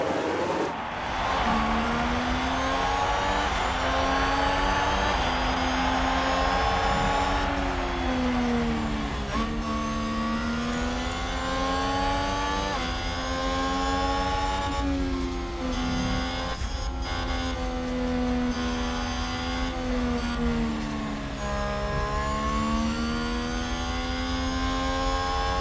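Formula One race cars in F1 Manager 2022 scream away from the start at the Japanese Grand Prix, a dense pack of high-pitched engines rising and shifting through gears continuously and loudly, no voices.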